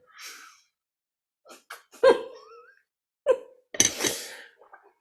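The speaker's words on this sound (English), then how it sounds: "I got the hiccups." Several short, sharp hiccups burst out one after another between breaths and quiet gaps, close and fairly loud, with a small gasp-like catch among them.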